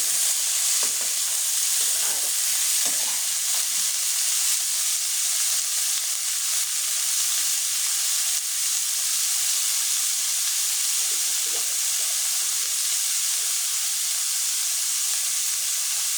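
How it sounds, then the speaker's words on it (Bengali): Chopped vegetables sauté in a hot pan for a dried-fish curry, giving a steady, loud, close sizzle and hiss throughout with a few faint stirring scrapes and no talk. "সবজিটা ভালোভাবে কষিয়ে নিই।"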